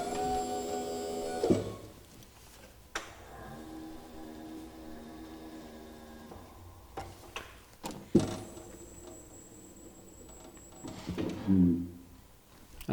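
Electric-hydraulic stacker with a powered clamp raising a clamped drum: a steady motor-pump whine with hydraulic hum runs for several seconds, stops, then starts again, with clicks and a clunk near the end.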